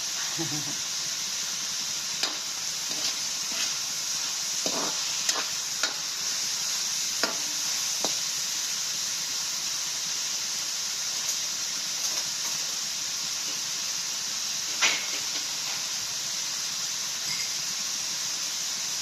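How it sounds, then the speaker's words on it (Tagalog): Tomatoes sautéing in a pan for a tuna and eggplant coconut-milk dish, a steady close sizzle and hiss with scattered sharp stirring clicks and scrapes of a utensil, running continuously without talk. "Lutuin po muna natin yung kamatis para maging masarap"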